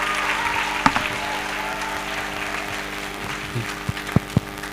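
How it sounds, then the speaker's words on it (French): Audience applause during a panel session at the Djeguéya Festival, a moderate wash of clapping over a steady background hum, with a few sharper claps standing out toward the end. "Est-ce qu'on peut l'applaudir?"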